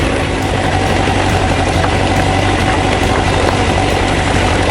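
Honda CBR1000F motorcycle engine running steadily on loose gravel, a loud continuous low rumble with constant road and wind noise, no voices.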